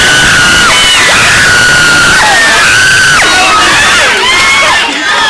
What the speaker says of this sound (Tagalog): Ang iyong palakpakan at hiyawan ang aking tataling tropeyo.